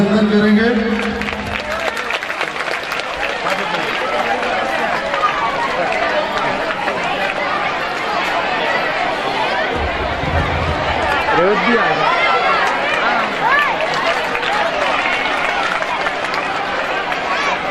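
An audience at a Bhagwat Katha religious gathering in Ganesh Nagar, Indore, claps continuously in a dense, sustained patter of many hands. The clapping fills the hall at steady loudness and runs under crowd chatter and a voice over a speaker system.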